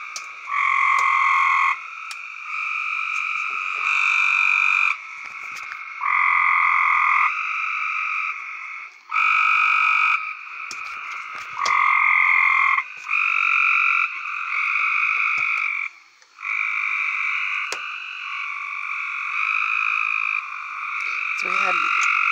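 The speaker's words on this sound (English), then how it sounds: "The frog song." A loud, dense chorus of frogs croaking outdoors after a strong storm, in long continuous bursts, with brief pauses between swells; no voices.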